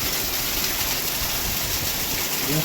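Heavy unseasonal morning rain pours down in a steady, dense wash of noise, loud and continuous with no pauses or voices.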